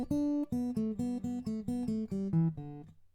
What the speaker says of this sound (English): If I played this kind of like finger style, it would sound like this.